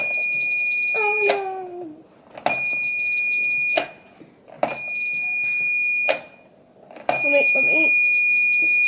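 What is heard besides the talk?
door alarm set off by opening the door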